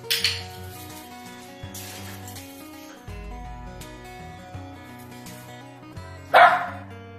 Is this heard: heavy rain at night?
no